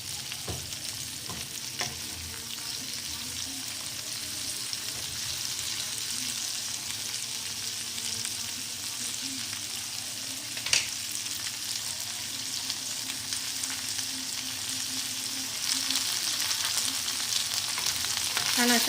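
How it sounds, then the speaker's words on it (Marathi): Okra and onions fry steadily in a pan, a continuous close sizzle with occasional stirring scrapes and small pops, even and unbroken throughout with no voices. "छान अशा प्रकारे फ्राय करून घ्यायचं"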